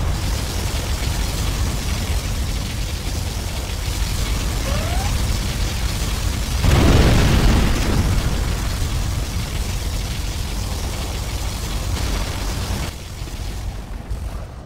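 Particle cannon blasts from an air force general's arsenal in a real-time strategy game: a dense, rumbling barrage of explosions that swells into one heavy, loud boom near the middle before thinning out at the end.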